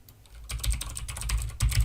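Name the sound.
typing an email address on a computer keyboard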